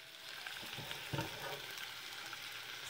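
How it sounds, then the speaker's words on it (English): Onions frying in a pan for caldereta, a steady close sizzle with a few scraping stirs through it, moderately quiet and with no talking. "medyo stir lang natin siya para yung onion na nakadikit sa pan, matanggal"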